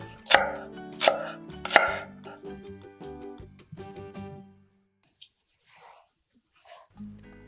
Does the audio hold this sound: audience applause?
no